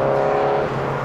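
Busy outdoor street traffic, with a car engine droning loud and close along with the rumble and whir of passing vehicles. The sound is continuous throughout a short moment, with no talking.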